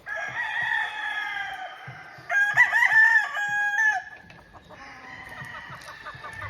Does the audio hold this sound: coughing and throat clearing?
no